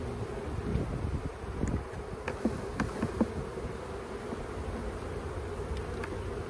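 Honey bees buzzing around open hives during a hive split, a steady near hum with scattered louder passes and a few soft handling knocks.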